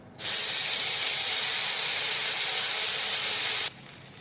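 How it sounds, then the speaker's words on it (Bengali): Ginger, chilli and cumin paste drops into hot oil with a sudden loud, even hiss that holds steady for about three and a half seconds, then cuts off abruptly. "এরপর আমি এর মধ্যে দেব আদা, লঙ্কা আর জিরে বাটা।"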